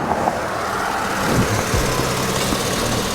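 A 2003 Chevrolet Silverado pickup engine with 200K miles and a faulty transmission idles nearby with a steady low rumble and broadband noise, a few faint knocks and shifts in tone.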